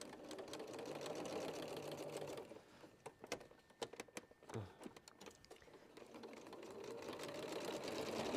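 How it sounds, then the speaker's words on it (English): A sewing machine runs along the edge of a zip, humming steadily for a couple of seconds, pausing into a few sharp clicks and knocks, then stitching again with the same steady whir. "So I'm just sewing on the edge."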